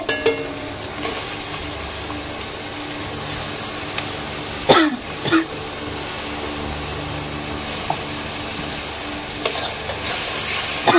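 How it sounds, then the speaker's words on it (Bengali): Oil sizzles steadily in a pan as raw spices fry with browned onions for a mutton curry, a spoon stirring, with a couple of sharper scraping clatters midway through. "নাড়িয়ে চেড়ে দিচ্ছি কাঁচা, কারণ কাঁচা মশলাটা ভাজা হয়ে যাবে।"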